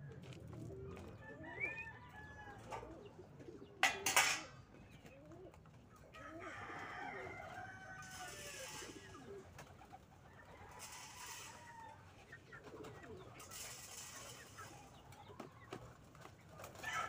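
Pigeons coo softly in an outdoor loft before feeding, with faint scattered bird calls and a sharp clatter partway through over steady background noise.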